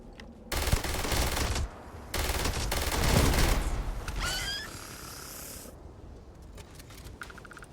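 Rapid automatic gunfire in Starfield comes in two long, loud bursts separated by a short pause, followed by a few metallic mechanical clicks and chirps as the shooting stops and quieter ambience remains.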